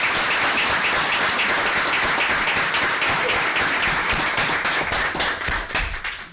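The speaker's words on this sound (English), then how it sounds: "Let's all give them a round of applause" Steady, dense applause fills a village board meeting room, a crowd clapping together for several seconds before thinning slightly at the end.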